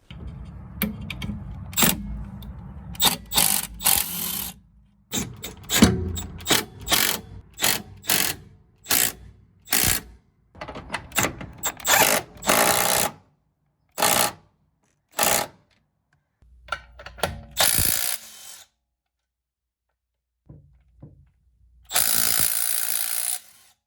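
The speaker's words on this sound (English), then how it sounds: "That is your quick look at the Milwaukee right angle impacting ratchet" A Milwaukee 3/8 inch right angle impacting ratchet runs in repeated short bursts of rapid mechanical rattling and whirring, with pauses between them and a longer run at the end.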